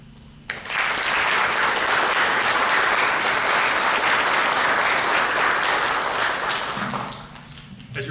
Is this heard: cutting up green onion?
no